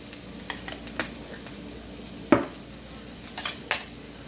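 Minced garlic fries in a pan with a low sizzle while a utensil stirs and taps against the metal, making several sharp clacks and scrapes, including a cluster of knocks toward the end, with no voices.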